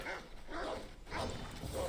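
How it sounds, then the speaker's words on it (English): Dogs barking a few times at a distance, faint yips and woofs spaced about half a second apart, with a voice talking softly alongside. "Bad dogs."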